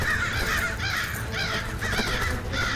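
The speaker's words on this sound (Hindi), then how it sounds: "इन कौओं को बाहर भगाओ, ये पैलेस गंदा कर देंगे।" Several cartoon crows cawing inside a palace, a loud, close run of harsh repeated caws in regular bursts, with no talk over them.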